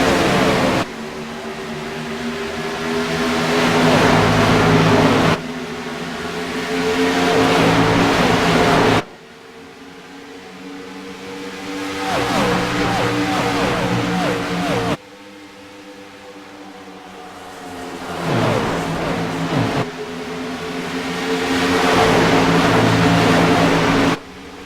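Race cars at Charlotte Motor Speedway roar away at the green flag, engines rising and falling as the pack passes in loud repeated surges with brief drop-offs between them.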